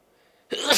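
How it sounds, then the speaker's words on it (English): A sudden, loud sneeze from someone with hay fever on a high-pollen day, bursting out after half a second of near silence and filling the rest of the short moment. "So if you hear me sneezing, that is why."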